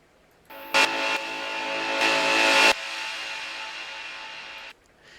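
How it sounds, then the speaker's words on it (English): A synthesized FM bass note played in reverse swells upward in loudness, with a brighter burst in the middle, then ends in an abrupt cut, for a trance bass. "and then so you get that FM bass in reverse"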